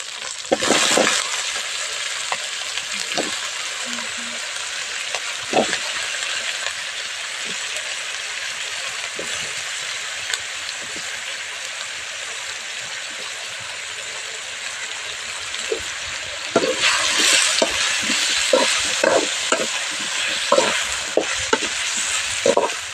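Sliced mushrooms fry in hot oil with tempering, giving a continuous loud sizzle with scattered scraping clicks from a utensil stirring the pan, which grow busier toward the end.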